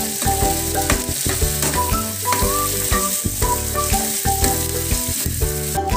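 Chopped onions fry in a hot pan for a dhaba-style egg curry, giving a loud, continuous, close sizzle with a layered, tonal ringing throughout.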